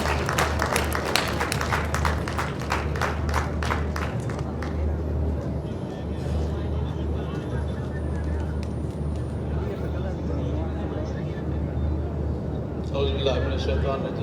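Audience applause fills a seminar hall, a steady dense wash of clapping with a low steady hum beneath it, running throughout and swelling slightly again near the end.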